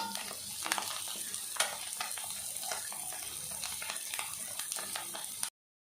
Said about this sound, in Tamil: முட்டையை வந்து ஒவ்வொன்றா திருப்பி விட்டுக்கலாம்.